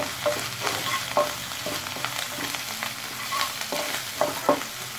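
Boiled potato filling for vada pav is stirred in a hot pan, with a soft sizzle under repeated scraping and tapping spatula strokes that come in irregular bursts, close and moderately loud, without speech.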